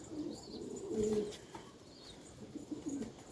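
Pigeons kept in a loft coo in low, repeated phrases during evening feeding, with soft chirps and faint background noise throughout.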